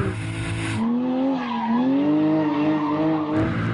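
Porsche 997 GT3 RS sliding sideways on a race track, loud tire squeal holding a wavering screech for a few seconds between bursts of engine roar, close and intense.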